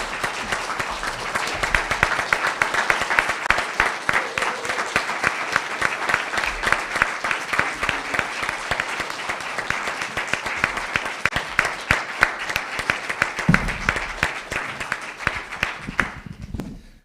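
A crowd at a school board meeting applauds steadily for a long stretch, dense clapping from many hands that fades out at the end.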